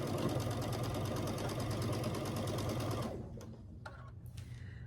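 A sewing machine stitching quilt rows together for a scrappy star quilt runs in a fast, even, close chatter for about three seconds, then stops, leaving a few faint clicks and handling sounds.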